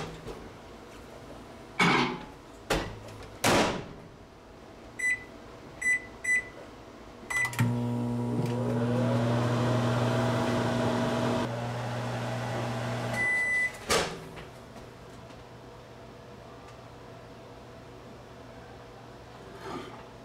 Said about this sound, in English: we're gonna microwave it for 2 minutes and get it all ooey gooey